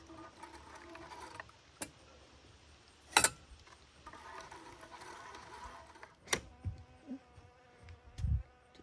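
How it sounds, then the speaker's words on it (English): Bees buzz in a steady, busy drone throughout, broken by a few sharp clicks and knocks close by. "Oh, what's with all the bees?"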